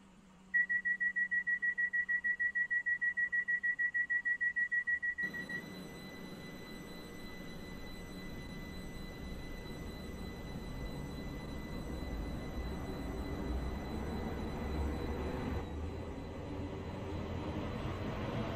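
A rapid pulsing electronic tone sounds for about five seconds, then gives way to a steady, loud rumble of a train running along the track in the Roblox game SCR, Stepford Central to Port Benton.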